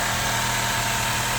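A Japanese car's 2.4-litre engine idling close by at a used car market, a steady, even hum and whirr with a faint vibration, unchanging through the short stretch, with no talk.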